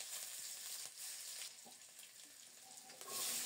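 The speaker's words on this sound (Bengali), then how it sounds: "অল্প করে সরিষার তেল দেব, কালো জিরা দিলাম ফোড়নে" Nigella seeds and chopped green chillies sizzle in mustard oil as a tempering, a fairly quiet steady frying hiss with a few soft crackles and a swell of sizzling near the end.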